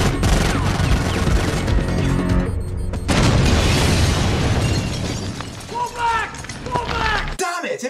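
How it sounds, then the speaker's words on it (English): A grenade blast tears a hole through a floor in a Total Recall action scene, a loud booming crash with debris and mechanical clatter layered under a dense score, followed by a few sharp impact hits near the end. "using grenades to blow a hole in the floor"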